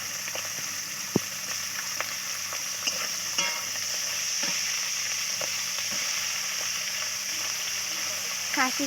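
Prawns fry in oil with chili and onion, a steady close sizzle with occasional clicks of stirring against the pan.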